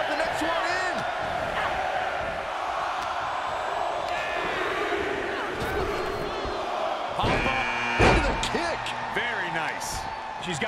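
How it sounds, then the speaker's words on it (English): Wrestling crowd noise from WWE 2K23 during a Women's Royal Rumble match, a dense, continuous roar of cheering with thuds and impacts, under a commentator's voice. "Listen to this crowd"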